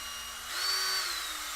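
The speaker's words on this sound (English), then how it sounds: "Move the drill up and down to the bottom, to the top, but don't ever take it out of the mix" A power drill with a mixing paddle churns epoxy resin in a bucket for DIY countertops, giving a steady high motor whine whose pitch dips and shifts briefly as the load changes, with no talk.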